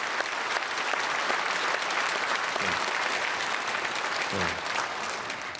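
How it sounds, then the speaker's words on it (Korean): A church congregation claps at length during a Sunday worship service, a broad, even wash of applause with a brief spoken word from the front. "박수를 길게 쳐주셔서 감사합니다"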